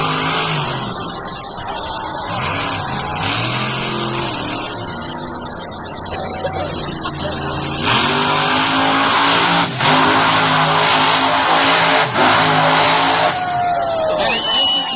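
A monster truck engine roars and revs loudly and continuously at an outdoor monster truck show in Estevan, with the pitch rising and surging in waves over crowd and arena noise.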